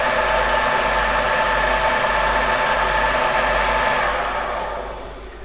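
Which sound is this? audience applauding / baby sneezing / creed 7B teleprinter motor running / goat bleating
creed 7B teleprinter motor running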